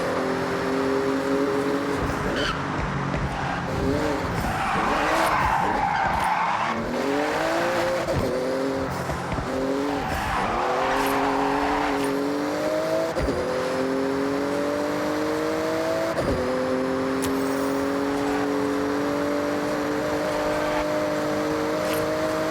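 A Porsche races through a speed zone in Forza Horizon, its engine roaring and revving hard through repeated gear shifts, with tires squealing and skidding throughout, loud and close for the whole stretch.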